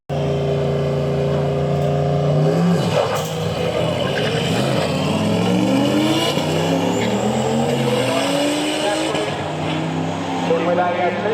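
At a 4WD drag strip competition, off-road vehicles including a 5.7-litre Lexus LX570 race with engines roaring and shifting pitch loudly and continuously, while a commentator talks over them.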